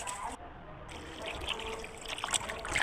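Finely chopped, square-cut vegetables are washed in water in a home kitchen, with soft trickling, sloshing and splashing that stays faint and close, under some brief background sounds.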